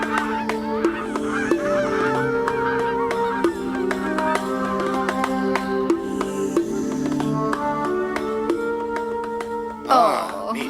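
Geese honk repeatedly and loudly in a dense, overlapping chorus of nasal calls, close and continuous for several seconds with no talking.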